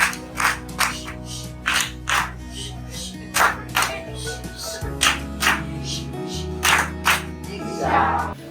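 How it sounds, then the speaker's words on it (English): Schoolchildren in a Ghanaian classroom give a rhythmic Chinese clap, a patterned run of sharp, close hand claps in quick groups, with sustained voices or chanting running underneath. "Let's give you a Chinese clap."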